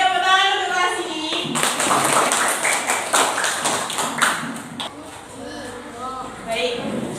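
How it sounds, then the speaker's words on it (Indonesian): Schoolchildren in a classroom clap together in a quick burst of hand claps lasting a few seconds, right after a teacher speaks, with children's voices around it. "tepuk tangan untuk kelas ini"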